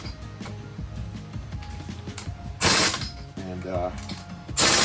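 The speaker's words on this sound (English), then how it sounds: "I'm gonna torque down my spacers just a little bit more" Ratchet wrench torquing down wheel spacers on a Chrysler 300, rapid close clicking of the pawl in bursts with louder metallic surges, a brief word spoken at the start.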